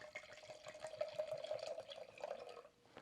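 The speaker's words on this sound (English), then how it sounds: "Pour this in the glass." Grüner Veltliner white wine pours into a glass in one steady, gurgling stream that runs for about two and a half seconds and then tapers off, close and fairly quiet.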